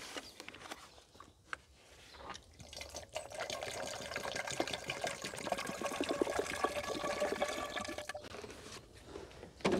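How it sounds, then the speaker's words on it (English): Water pours steadily into a fence sprayer tank with a splashing, gurgling rush that fills in after a few faint clicks and handling noises as the pump handle is removed. "And pour some water in there."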